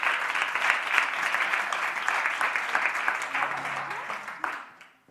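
Audience applauding at a fashion event as a woman is called to the stage, dense steady clapping throughout that fades out near the end, with faint voices underneath.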